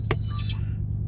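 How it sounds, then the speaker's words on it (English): A truck's dash camera powering on with a short electronic chime of a few quick bright tones, sounding over a steady low engine idle hum. "that sound was the camera turning on."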